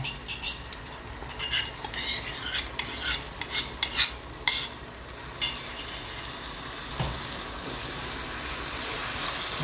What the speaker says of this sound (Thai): ใส่น้ำปรุงลงไปแล้ว ผัดให้หอม นะคะผัดให้หอม